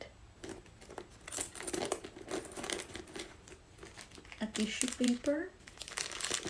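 Tissue paper crinkles and rustles as it is pulled out of a small handbag, soft irregular crackles coming close up, with a voice talking at the same time.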